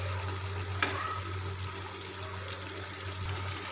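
A vegetable curry of matar paneer with kasuri methi simmering in a pan, giving a steady, soft, continuous sizzle and bubbling hiss close by, with one faint clink and no talking.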